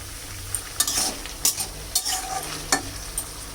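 Mixed vegetables for a prawn dish are stirred in a pan over lowered heat, giving repeated spatula scrapes roughly every half second over a constant, close sizzle.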